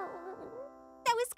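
A robot puppy in a children's cartoon gives a short burst of high, yippy barks near the end, after a stretch of talking and a low sustained tone.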